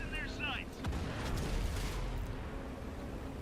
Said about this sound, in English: Artillery lobbed a shell in here somewhere